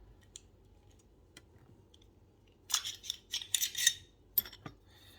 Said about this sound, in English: if I pull the nozzle all the way forward, and it snaps back very quickly, very smartly